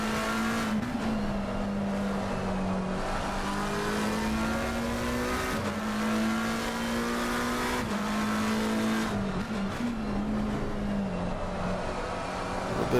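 Mercedes race car in the Assetto Corsa Competizione racing game at Brands Hatch, heard on board: a steady loud engine drone rising and falling through gear changes, with brief dips and tire squeal through corners.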